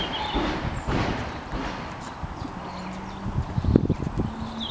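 A stallion at the Irish National Stud in Kildare walks calmly back to the stables, its hooves clip-clopping in a steady rhythm at moderate distance, with a brief whinny-like sound and faint background ambience.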